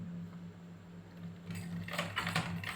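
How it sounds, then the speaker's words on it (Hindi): A sewing machine stitches umbrella fabric as its wheel is turned by hand. A low steady hum gives way to a cluster of light mechanical clicks and rattles that are near and fairly faint. "धीरे से ये हाथ से पहिया घुमाया"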